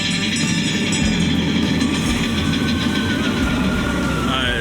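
Disneyland mine train cars rumble and clatter along a track with a steady mechanical roar, metallic squeals rising over the din.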